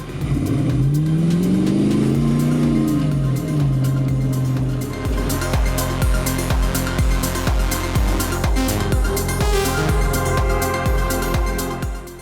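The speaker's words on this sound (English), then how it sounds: "This 90 is powered by our LS3 430 horsepower engine with 6-speed automatic transmission." A Land Rover Defender 90's LS3 430-horsepower V8 idles with a rising and falling revving tone, then settles into a steady, loud, rhythmic rumble.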